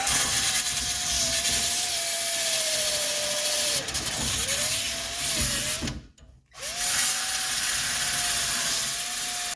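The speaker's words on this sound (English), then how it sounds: "hit it with our 100 grit sander. And get it back down to good metal" A 100-grit power sander grinding rust off the body of a 1983 Mercedes 300CD down to bare metal, a loud steady whine with pitch dips as pressure shifts and a brief break in the middle.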